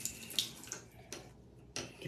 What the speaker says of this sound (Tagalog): lagyan natin ng tubig dito.